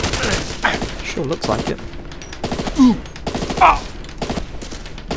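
Gunfire in the video game SAS Secure Tomorrow, rapid bursts of automatic shots mixed with game voices and a player talking over the action.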